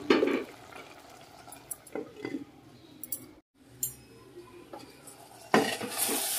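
Turmeric being stirred into ridge gourd and tomato cooking in oil, with scattered clinks of a spoon against the pan, soft scraping and a louder burst of clatter at the end.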